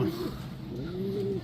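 A grizzle pigeon coos near the listener, a couple of low, rolling, throaty calls that rise and hold, steady and moderately loud with no other voices.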